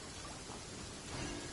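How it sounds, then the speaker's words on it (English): Steady rain from a thunderstorm in Genshin Impact, a faint even wash of falling water with a slight swell near the end, no voices. "Uh-oh! Lightning storm!"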